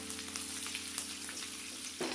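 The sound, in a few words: ginger and green chilies sautéing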